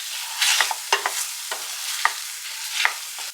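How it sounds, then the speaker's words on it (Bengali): Tomato and onion masala frying in a pan while being pressed down, close spatula scrapes and thumps repeating every half second or so over a continuous bright sizzle. "আমি না একটু চেপে চেপে ফ্রাই করছি"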